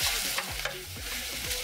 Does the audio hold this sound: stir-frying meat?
yes